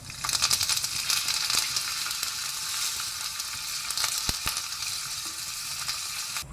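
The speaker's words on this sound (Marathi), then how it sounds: "लसूण भाजून आयली म्हणटाना इल्लोसो बेवाचो पालो घालचो." Curry leaves sizzle steadily in hot oil alongside roasted garlic and a pinch of asafoetida, a close, continuous frying hiss with scattered crackles and pops throughout, no talking.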